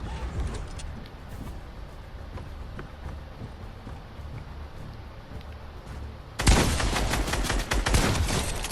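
Fortnite video game gunfire erupts in a loud, dense burst near the end after a stretch of busy game ambience, close and sustained with rapid repeated shots.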